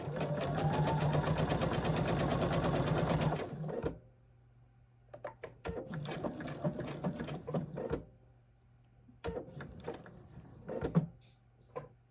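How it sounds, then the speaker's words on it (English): A sewing machine runs in a fast continuous burst over quilt fabric, then stops as it backstitches at the end, followed by short sporadic clicks and handling noises with a steady low hum beneath. "I am just going to make it back stitch at the end"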